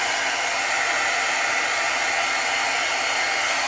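Handheld hot air heat tool blowing a continuous loud, even hiss to dry pigment ink on a rubber stamp, close and unbroken throughout with no voices.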